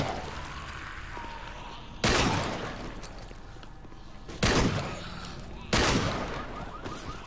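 Shotgun blasts in the video game The Walking Dead: Survival Instinct, three loud separate booms spaced a couple of seconds apart, each with a short decaying tail over quieter game ambience.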